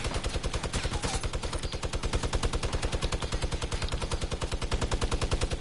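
Rapid automatic gunfire in the shooter video game Squads, a long unbroken string of evenly spaced sharp cracks at a fast steady rhythm, loud and close throughout with no voices.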